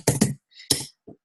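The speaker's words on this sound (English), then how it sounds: "have to apologise for my loud typing" Loud typing on a computer keyboard in an office setting, a few sharp clustered key clacks followed by a softer tap, close and alone with no talk.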